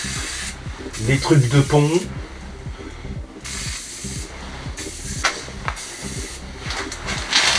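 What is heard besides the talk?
spraying penetrating oil onto rusty mower parts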